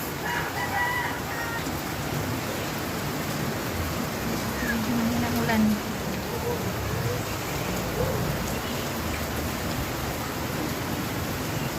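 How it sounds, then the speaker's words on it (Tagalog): Steady soft hiss of light rain from Typhoon Uwan in Quezon City, Manila, with a rooster crowing faintly in the distance and a few brief chirps. "Oh, medyo mahina ang ulan guys."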